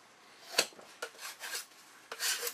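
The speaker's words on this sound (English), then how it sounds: "Just going to scrape off the knife here." A metal drywall putty knife is scraped clean of joint compound in several short, crisp rasping strokes, close and moderately loud, with no voices.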